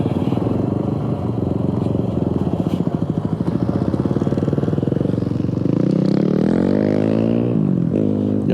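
A Honda CT125 Cub motorcycle rides a muddy trail, its small single-cylinder engine putting out a steady close buzz that rises in pitch as it revs near the end, with clattering from the rough ground.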